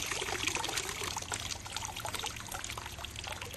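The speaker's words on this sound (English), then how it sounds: "Let the water drain out." Water drains out of a Water Tech Pool Blaster Max Li cordless pool vacuum, a continuous quiet trickle and splash with a low steady hum beneath, faint and unbroken.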